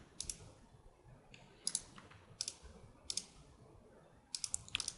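Computer mouse clicking during photo editing in Photoshop: a handful of sharp, quiet clicks, some single and some in quick pairs, spaced irregularly over a faint, quiet room background.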